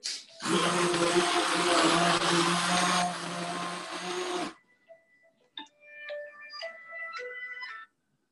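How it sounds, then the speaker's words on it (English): A stick blender whirs loudly and steadily for about four seconds, dropping slightly in pitch midway before cutting off abruptly, followed by quiet clinks and tonal beeps. "To the power cord and our stick blender."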